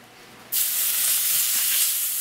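A sudden loud, steady hiss bursts in after a brief quiet moment as filet steak hits hot canola oil, sizzling continuously at close range.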